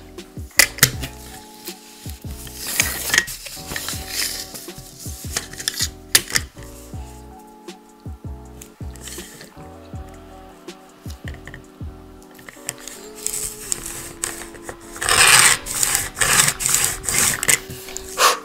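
Material for a homemade Christmas gift being cut, with a run of crisp clicks, scrapes and rasping strokes close by, some louder bursts toward the end.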